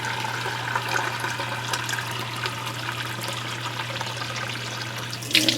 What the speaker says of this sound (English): I'm going to take it over to the sink and fill it with water.